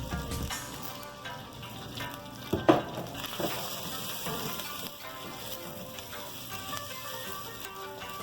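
Onions hitting a hot frying pan for a Hong Kong style sweet and sour chicken, a steady soft sizzle with a brief clatter partway through, fairly quiet and without speech.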